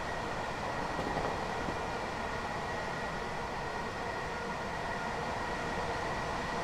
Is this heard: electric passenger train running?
yes